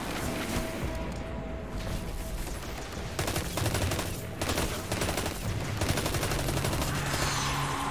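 Sustained automatic gunfire from a weapon in the sci-fi shooter game Destiny 2 (Beyond Light), dense rapid bursts with brief pauses, loud and close throughout.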